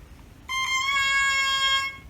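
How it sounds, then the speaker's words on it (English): A bare oboe reed crows a thin, buzzy, reedy tone, starting with a couple of short chirps and then holding one steady squawk for over a second. "The reed sounds like this."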